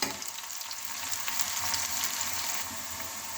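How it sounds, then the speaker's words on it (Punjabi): Onions frying in a pan for a potato, carrot and pea curry, a steady close sizzle with faint crackle and no voices. "ਆ ਦੇਖੋ ਜੀ ਪਿਆਜ਼ ਸਾਡੇ ਲਾਲ ਹੋ ਗਏ ਨੇ ਭੁੱਜ ਚੁੱਕੇ ਨੇ"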